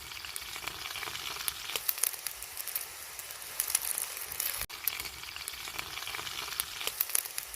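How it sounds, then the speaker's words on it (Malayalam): Ginger, garlic, green chili and tomato sauté in oil with a steady, faint crackling sizzle and occasional stirring scrapes, close up with no voices. "അത് നന്നായിട്ട് വഴറ്റിയെടുക്കണം"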